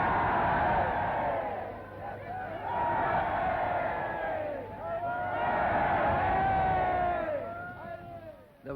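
Dense crowds cheer and shout around the Premier's car on an old newsreel soundtrack, a loud continuous roar of voices with rising whoops and calls, swelling and dipping in waves.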